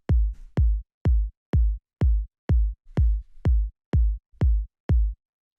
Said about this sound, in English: this is just like a pretty standard sort of minimal house style kick